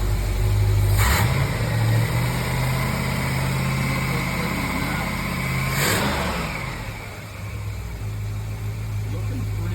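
A 454 Crusader marine engine idles at roughly 700 RPM with a loud, close, steady low rumble and hum, two brief rises in the idle partway through; someone talks over it.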